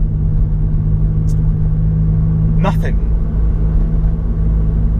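A Honda Accord Type S CL9 drives with a steady, loud low engine and exhaust drone throughout, with a brief faint chirp early on and a short rising tone partway through.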